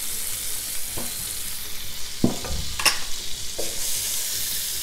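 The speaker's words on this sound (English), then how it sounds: "And to the butter, I'm gonna add a half a cup of finely diced onion." Finely diced onion hitting hot butter in a pan, a bright steady sizzle with a few scraping stirs and clunks, close and unaccompanied by voices.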